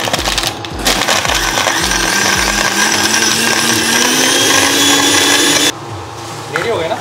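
An electric blender whirs loudly as ice cream is mixed into a drink at a Delhi street food stall, starting with a few short bursts and then running as one sustained, rising motor whine before cutting out.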